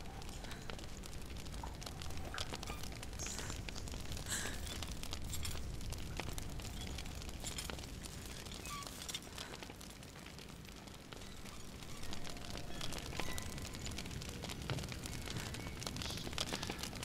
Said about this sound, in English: Feuer, ich höre Feuer.